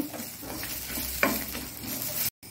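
Coriander stems fry in a pan for a sprouted horse gram and beetroot sambar, a moderate continuous sizzle with a brief scraping stir near the middle, cutting off abruptly just before the end.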